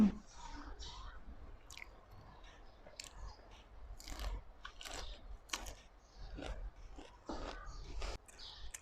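Someone eating grilled shrimp with spicy seafood sauce close up, with repeated crunchy bites and wet chewing at an irregular pace, fairly quiet.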